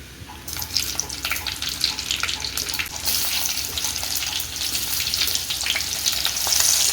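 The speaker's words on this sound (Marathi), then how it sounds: "इथे आपलं तेल हे छान तापलेलं आहे ह्यात आता आपण कांदा टाकून घेऊया" Chopped onions hit hot oil in a pan and a loud, dense sizzle sets in right away, crackling steadily and close throughout, with no talking.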